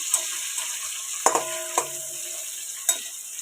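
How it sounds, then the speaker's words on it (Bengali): Eggplant pieces frying in oil alongside potatoes, quiet sizzle broken by a few sharp utensil clinks and scrapes against the pan, no voices. "বেগুনগুলো একটু ভাজা ভাজা হোক"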